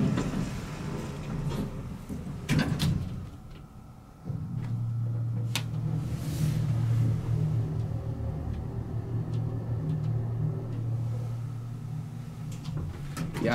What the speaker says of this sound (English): The motor definitely does sound like an old Dover one.